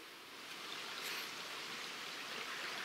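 A river runs over stones at a shallow ford, a steady close broadband rush of flowing water with no voices and no other clear sounds.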